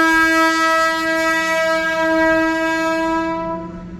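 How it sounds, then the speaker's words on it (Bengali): An Indian Railways freight train loaded with coal sounds its horn near Sankrail station, a loud, sustained, close blast that holds steady and then fades away under the rumble of the passing wagons. "এই যে ইন্ডিয়ান রেলওয়ে,"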